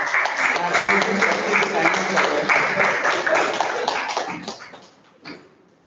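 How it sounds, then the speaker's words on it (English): A Toastmasters club audience claps a round of applause for a speaker, a dense burst of many hands that fades out toward the end, with some voices mixed in underneath. "A round of applause to Toastmaster Malvika"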